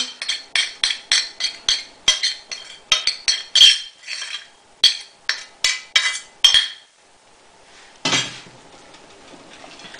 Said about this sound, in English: we're going to mix that up well